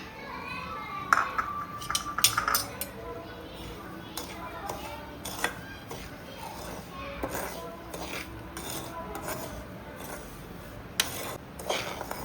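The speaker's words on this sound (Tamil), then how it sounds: "இரநூத்தி ஐம்பது கிராம் ரவை வறுக்காத ரவை வறுத்துக்கிறோம்" Dry unroasted semolina (rava) is stirred as it roasts in a pan for rava kichdi, making scraping spoon-on-metal clatter and light clinks at close range, with a faint high ping early on and talk in the background.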